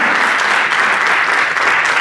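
A church congregation breaks into steady, dense applause throughout a Spanish-language service. The clapping is loud and continuous, with no voices rising above it.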